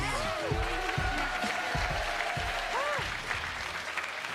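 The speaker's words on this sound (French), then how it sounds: "On applaudit Chahinez." Studio audience applause for Chahinez on a midday game show, steady and fairly loud clapping mixed with music and brief voices.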